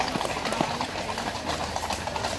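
Horses' hooves clip-clop along the Mall in London during a coronation procession, a steady rhythm of hoofbeats heard at a distance through continuous crowd noise.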